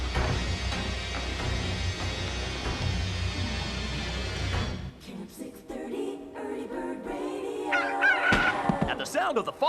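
A rooster crows partway through, a short rising call against a dense musical or ambient bed.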